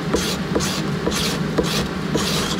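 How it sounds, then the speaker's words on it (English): Sandpaper wrapped on a plastic block rubs back and forth on a Harmony Stratotone style guitar build, making rhythmic close rasping strokes about twice per second with no voices. "it's just a piece of plastic with some sandpaper wrapped around it"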